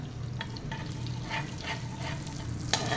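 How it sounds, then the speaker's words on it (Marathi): Whole spices sizzle gently in melted butter in a pan, a soft continuous crackle with occasional spoon scrapes and a low background hum, fairly quiet and without speech. "आणि बटर विरघळलेलं आहे त्याच्यामध्ये आता हे खडे मसाले घालूया आणि एखादा मिनटं ते परतून घेऊया"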